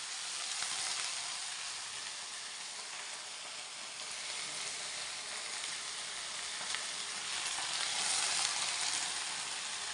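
Fenugreek greens stir-frying in a pan, a steady, dense sizzle lasting throughout with slight swells, close and fairly loud, no voices.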